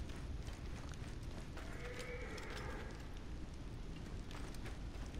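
Horse hooves pound in a steady, rapid galloping clip-clop in the video game Assassin's Creed Origins, a continuous moderate rhythm with game ambience and no clear talk over it.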